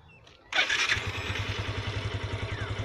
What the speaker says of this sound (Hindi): हम बाइक को पहले स्टार्ट कर लेंगे।